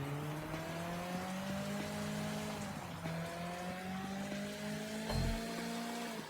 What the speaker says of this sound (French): c'est pas la voiture qui avance le plus vite possible, mais ça fera l'affaire